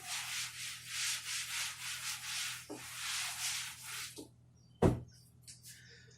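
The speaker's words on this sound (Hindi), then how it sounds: "इसको रब कर दिया जाए." Writing being rubbed off a classroom board with a duster: steady, rhythmic scrubbing strokes for about four seconds, then a single solid knock and a few faint taps, with no talk.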